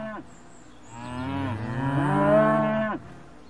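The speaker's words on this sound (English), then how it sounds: "Yes, a herd of cows." Several cows moo in long, deep, overlapping calls that swell and sustain for a few seconds, close and fairly loud, with no talking.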